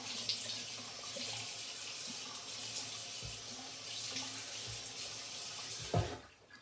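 Tap water runs steadily into a sink while a face is wet before shaving, a continuous close splashing hiss with a brief louder gurgle near the end.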